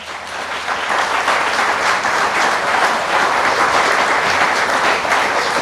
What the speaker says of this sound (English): if I could get a big round of applause for this group here